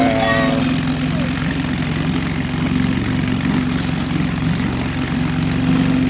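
Johnson 3hp Sea-Horse outboard motor running, a loud continuous close buzzing drone at a steady idle with an even throb, running lean and steaming.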